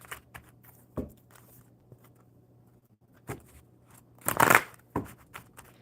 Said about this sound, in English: we will shuffle the enchanted maps for you